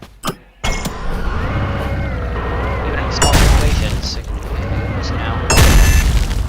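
Heavy impacts and mechanical pounding from the jackhammer weapon in the video game Ultrakill, bursts of crunching hits and booms with clanking machinery, under someone talking.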